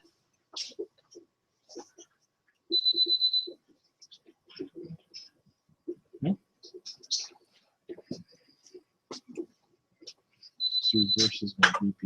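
Two short, steady electronic beeps sound several seconds apart, mixed with quiet clicks, rustling and soft breaths.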